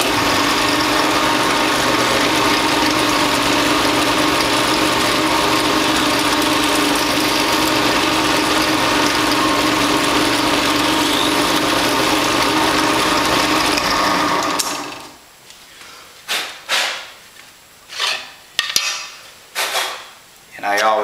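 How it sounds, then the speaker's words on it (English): An air drill bores nutplate holes in an RV-7 aircraft wing flap, running as a loud, steady whine for about fifteen seconds before giving way to short bursts and clatter. "now I can drill these holes"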